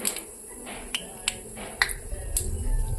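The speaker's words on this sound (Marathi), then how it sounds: "मोहरी छान तडतडू द्यायची" Mustard seeds spluttering in hot oil in a kadhai as Marathi ridge gourd (dodka) bhaji cooks: a handful of sharp, isolated pops and crackles over a low background hiss, with no voices.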